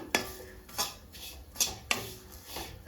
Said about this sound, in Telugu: ఇవి కూడా అండి గోల్డెన్ కలర్ వచ్చేంత వరకు వేయించుకోవాలి